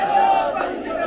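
Samajwadi Party supporters crowd outside Akhilesh Yadav's residence, a dense murmur of many voices with shouting mixed in, steady and moderately loud throughout.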